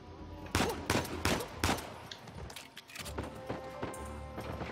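Bursts of gunfire from the video game Uncharted 4 crack out repeatedly, several sharp shots spaced irregularly over a steady background rumble.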